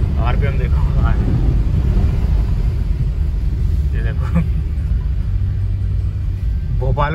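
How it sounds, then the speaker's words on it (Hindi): Car grinding through deep flood water in first gear with the bonnet soaked, a loud steady engine rumble and water wash over wind buffeting, while someone briefly talks over it. "फर्स्ट गियर पे जा रही है गाड़ी, आरपीएम देखो कहाँ है"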